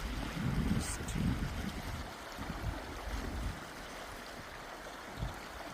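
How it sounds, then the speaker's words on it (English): Water flows in a stream at a UK nature spot as a steady broadband rush with low gurgling swells, with faint wind-like noise and no clear talking. "you can just hear the sound of the water flowing"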